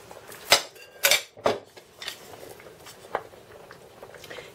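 A spoon clinks and scrapes against a pot as a flour slurry is stirred into hot mushroom sauce for pork neck cutlets: a few sharp, close metallic knocks early on, then lighter taps and soft stirring.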